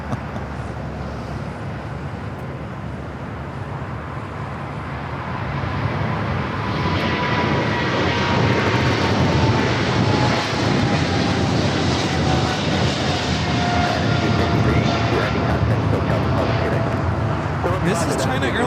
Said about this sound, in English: This is China Airlines Cargo 5382 taking off to Miami, Florida on the 777 freighter